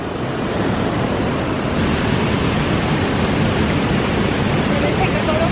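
A big waterfall roars as a steady, loud, broadband rush of falling water, constant and close throughout, masking any other detail.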